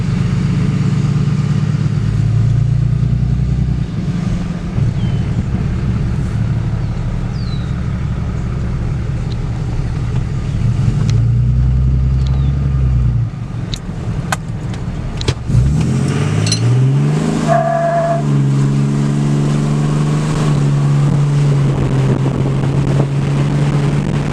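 A 2008 Ram 2500 with the 6.7 Cummins diesel rolls down the road, a deep steady engine drone with rising and falling pitch as it shifts and changes speed, heard from inside over constant road and wind noise.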